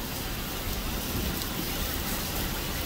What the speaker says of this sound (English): In Cozumel, and it is pouring rain